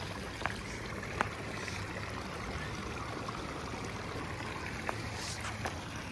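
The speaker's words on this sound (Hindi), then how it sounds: "ऊपर से आ रहा है पानी।" Clear mountain stream water rushes down steadily on a Gulmarg trek, a continuous broadband wash with faint splashes and clicks, heard alone without talk.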